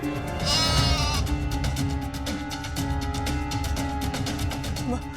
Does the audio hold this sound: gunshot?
no